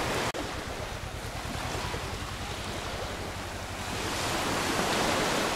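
Surf on a Maldives island shore roars in a continuous broadband wash of breaking waves, loud and close, with wind buffeting the microphone and the swell rising slightly toward the end.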